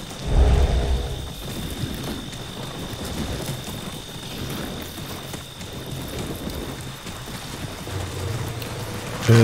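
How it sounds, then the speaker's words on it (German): Steady rain with low rumbling thunder in Diablo 2 Resurrected, a heavy roll near the start and a continuous downpour hiss throughout, with no talk. "Es regnet ja."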